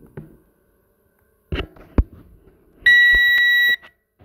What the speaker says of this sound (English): that beep you hear is when you hit the limit up or down of the camera rotation, it beeps at you to let you know